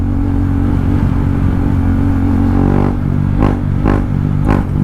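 A KTM 390 Duke motorcycle's exhaust pipe rumbles loudly and steadily while it is ridden, with a few sharp revving surges near the end and no talking.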